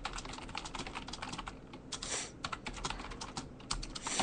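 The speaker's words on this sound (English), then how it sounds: "just typing a reply to someone" Rapid keystrokes clatter on a computer keyboard in an irregular stream, near and fairly quiet, with short pauses and a few heavier key hits.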